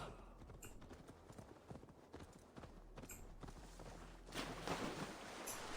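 Horse hooves clip-clop in Assassin's Creed Valhalla, a steady walking rhythm of close, crisp hoof strikes that grows louder and busier near the end, with a faint wash of water.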